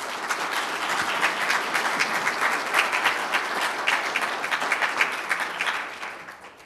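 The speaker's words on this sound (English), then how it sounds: "please let us give them a round of applause" An audience at a university faculty awards ceremony applauds steadily with dense clapping for several seconds before it tapers off.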